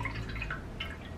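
Jello mix poured gently into a 9x9 baking pan gives a soft, close, continuous liquid trickle with light dripping and splashing.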